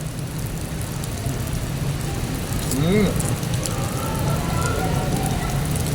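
Steady heavy rain hissing on a surface throughout, a dense continuous wash with a low rumble beneath and a brief tonal sweep partway through.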